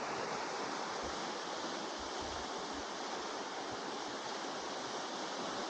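River water at Tamolitch Blue Hole on the McKenzie River rushes in a constant broadband roar, steady and unbroken throughout, with no speech.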